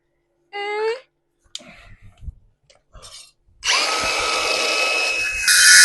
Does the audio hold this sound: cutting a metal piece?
yes